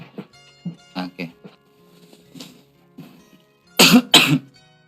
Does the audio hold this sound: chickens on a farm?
no